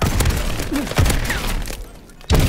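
Shotgun fire in the video game Call of Duty: Advanced Warfare, several loud booming blasts in quick succession over continuous game noise.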